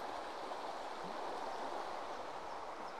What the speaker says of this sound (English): the beck that we've been following pretty much all the way from Thornthwaite has done its job. It's led us to the mighty River Nidd.